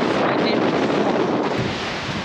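Strong wind buffets the microphone in a steady, loud roar with broad rushing noise at a harbour in Heeg, Friesland, no voices present.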